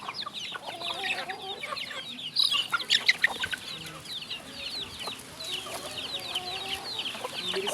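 A flock of chickens raised on a small backyard farm clucks and chatters continuously, several birds at once, near and moderately loud with occasional sharper squawks.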